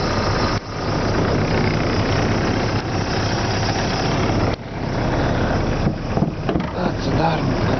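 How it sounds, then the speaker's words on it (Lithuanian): A slightly rusty Opel car's engine idles with a steady, loud rumble close to the microphone. The drone is briefly interrupted by a few dips and bumps as it runs on. "Paklausom variklio."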